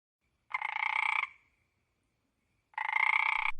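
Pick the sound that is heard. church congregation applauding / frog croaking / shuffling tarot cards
frog croaking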